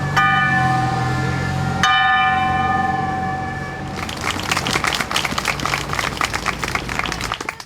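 The historic John Brown Bell in Marlboro rings out twice with long, resonant tolls that ring on and decay, followed by a crowd's sustained applause and clapping.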